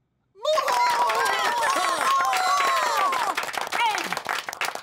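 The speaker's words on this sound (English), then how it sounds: "A round of applause for I-G-H." Children's educational show audience applauding a correct spelling answer: dense clapping starts abruptly and runs steadily, with excited high voices cheering and shouting over it before thinning toward the end.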